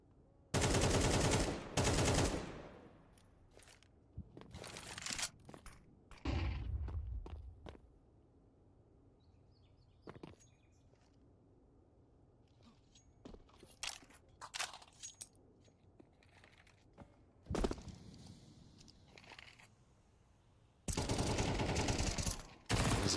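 Gunfire in a Counter-Strike 2 professional match rings out in a few sharp bursts at the start and end, with scattered shots, footsteps and movement sounds in between.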